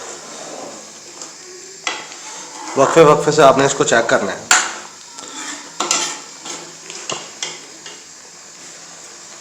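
A spoon mashes and scrapes pumpkin halwa in a metal pan with clattering, irregular clinks and stirring scrapes, loudest in a burst midway, while someone speaks over the cooking.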